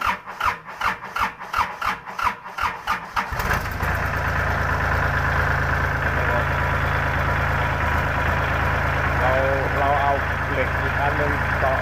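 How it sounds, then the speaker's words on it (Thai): A farm tractor engine chugs through a few rough cranking beats, then catches and settles into a steady, loud idle, with someone speaking over the running engine. "ตอนนี้รถไถติดแล้วครับ"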